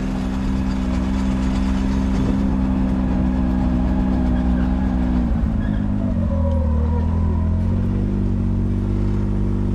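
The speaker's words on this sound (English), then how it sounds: "So I'm out here driving through the trails" A vehicle engine runs steadily while driving along forest trails, a loud continuous low drone with a shift in pitch partway through as it changes speed.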